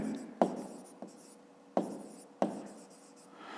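Handwriting with a pen or pencil on paper while working a grade-5 maths exercise, heard as a few soft scratching strokes with sharp taps at each new mark, close and quiet with no talk.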